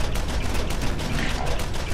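Pistol fire with fire damage in the video game Borderlands, set in a cave: a dense, rapid run of close, loud shots with crackling impacts, continuous across the whole moment.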